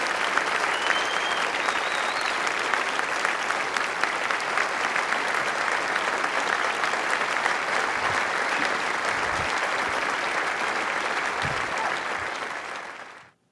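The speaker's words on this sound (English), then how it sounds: "Let's also give a very warm round of applause for our third place team from Sweden" Sustained, even applause from an engineering competition audience, honoring the third-place team from Sweden, steady and full for about thirteen seconds before cutting off abruptly.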